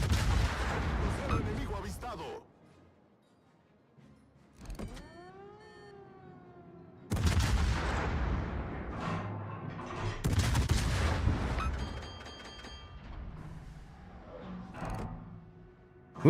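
Warship guns fire in the naval battle game World of Warships as loud booming salvos that roll out in several bursts, separated by quieter stretches and a rising whine, all close and heavy.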